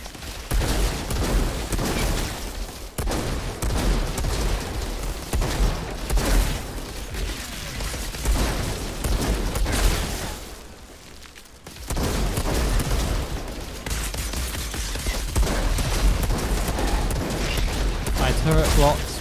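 Repeated gunfire and booming impacts in the shooter Outriders, dense volleys running throughout under someone talking, with a brief lull partway before the shooting resumes.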